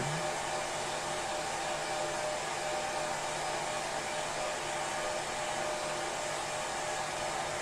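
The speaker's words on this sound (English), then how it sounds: "Sorry about talking with the dryer on." A hair dryer runs steadily and loudly throughout, a constant broad whooshing blow used during junk journal crafting, with no talking over it.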